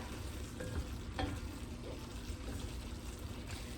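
Empanada filling is mixed in a pan or bowl, making a steady scraping and sizzling texture that runs without a break, close by and with no talking.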